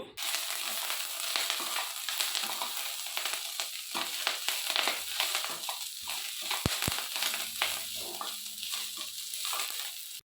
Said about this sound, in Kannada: ನುಗ್ಗೆ ಸೊಪ್ಪನ್ನು ಹಾಕ್ಕೊಂಡು ನಾವು ಎಣ್ಣೆಯಲ್ಲಿ ಒಂದು ಐದು ನಿಮಿಷ ಈ ರೀತಿ ಬಾಡಿಸ್ಕೊಳ್ಬೇಕಾಗುತ್ತೆ